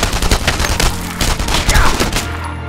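Loud, sustained automatic gunfire in an open-world war video game, rapid bursts of close shots that run almost without pause through the whole moment.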